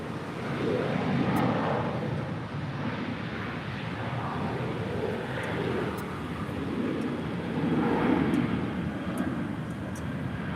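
An Aeromexico Boeing 737-800 taking off at LAX for Mexico City, a steady broad jet roar at some distance that swells and eases slightly over the stretch, with no talk.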